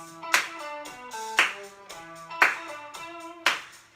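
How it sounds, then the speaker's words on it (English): Hands clap in time during a seated dance class, four crisp claps about a second apart over a backing music track, with no talking. "Into your claps. Just clapping your hands."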